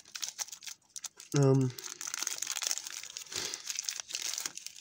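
A short burst of a Coffee Crisp chocolate bar's crinkly wrapper tearing open, loud and close, amid quieter rustling and faint background voices.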